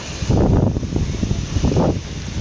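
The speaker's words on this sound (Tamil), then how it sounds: "திடீர்னு ஏதோ காஞ்சனா படத்தில் வந்த காற்று மாதிரி வருது" A sudden strong wind gust in Coimbatore roars and buffets the microphone in a broad, continuous rush that swells twice, loud and close, with no talk.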